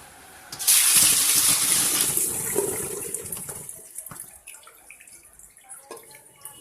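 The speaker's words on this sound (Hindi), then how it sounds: "अब हम इन आंवलों को पानी में से निकाल लेते हैं।" Water splashes and gushes briefly as soaked Indian gooseberries (amla) are lifted out, followed by softer drips and light sloshing nearby.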